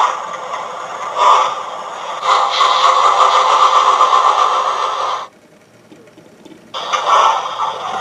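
A Hornby LNER 2-8-2 P2 model locomotive with a TTS sound decoder plays its wheel-slip effect: loud, rapid mechanical chuffing bursts that surge and stop, pause briefly, then resume.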